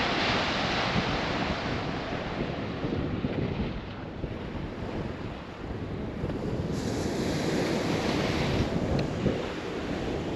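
Surf breaking steadily on Keem Bay beach, Achill Island, on the Wild Atlantic Way, with a continuous broadband wash of waves and gusty wind buffeting the microphone throughout, close and loud, no voices.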